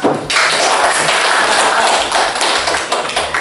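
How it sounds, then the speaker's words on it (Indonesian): Applause from an audience at a school dissemination session on positive culture, a dense, loud wash of clapping that starts abruptly and continues steadily with no voices over it. "Kita beri aplaus dulu untuk Pak Tris."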